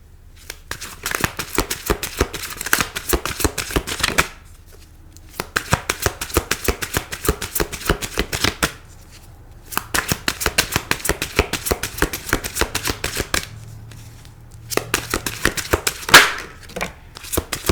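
Tarot cards are shuffled by hand in repeated riffling bursts of crisp papery flicks, about four rounds separated by brief pauses, close and clear with no talking.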